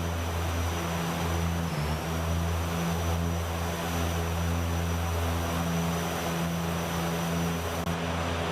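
Dash 8-Q400 turboprop engines drone steadily in a flight simulator game, a loud continuous hum with strong low tones that hold for the whole stretch, with no talking.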